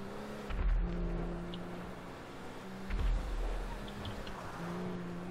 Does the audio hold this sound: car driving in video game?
yes